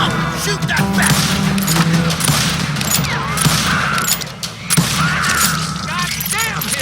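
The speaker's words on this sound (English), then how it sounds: "Shoot that bastard!" Gunfire in the western shooter Call of Juarez Gunslinger, a rapid volley of sharp shots cracking over a busy game soundscape, loud and near, with brief voices mixed in.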